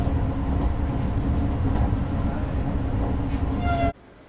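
Steady loud rumble and rolling clatter of a new saffron Vande Bharat train at the Chennai Egmore platform, continuous throughout before cutting off abruptly near the end.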